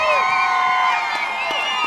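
A high school football crowd at Milford versus Duchesne cheers and whoops for the defense, a loud sustained roar of many voices with whistle-like tones.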